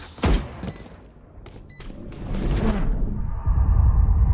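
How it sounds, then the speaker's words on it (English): A flashbang grenade goes off in Valorant, a loud sharp burst followed by whooshing bangs and a low rumbling wash that swells and holds through the end. "Flashbang."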